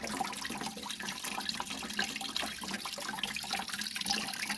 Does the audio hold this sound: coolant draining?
yes